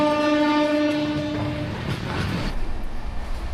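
An Amrit Bharat Express sleeper train departs Dankuni station, sounding a long, loud, steady horn blast that then gives way to the low rumble and rhythmic rattle of moving rail cars.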